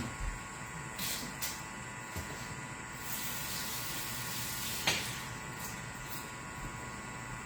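Running water pours steadily under a faucet while celery is rinsed, a close, even hiss lasting throughout with a few brief splashy bursts and no talk.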